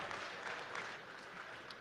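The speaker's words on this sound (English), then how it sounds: "Please join me in a round of applause for our esteemed panelists" Audience applause for conference panelists at a Bitcoin event in El Salvador, a steady broadband patter of many hands clapping, fairly quiet and distant, lasting throughout without voices.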